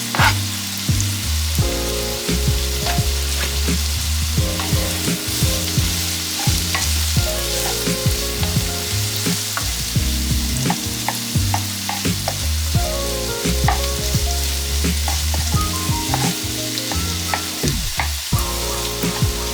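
Sliced potatoes with garlic stir-frying in a pan, a loud continuous sizzle broken by frequent scraping and clattering of a utensil, with music playing underneath.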